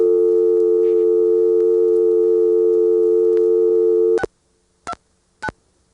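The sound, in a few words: telephone call-progress sounds after dialing, old North Carolina network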